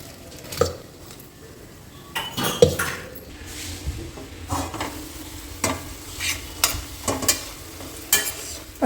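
Ridge gourd pieces, garlic and tomatoes fry for chutney, a faint sizzle under repeated spoon scrapes and clinks against the pan, spaced in an uneven rhythm without speech.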